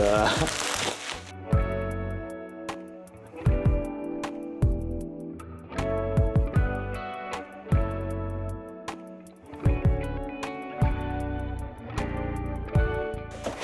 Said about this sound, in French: ça va, je déballe mon miroir